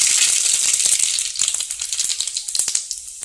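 Cumin and mustard seeds crackle and sizzle in hot oil, a steady hiss giving way to quick sharp popping that grows more scattered toward the end, close and fairly loud with no talking.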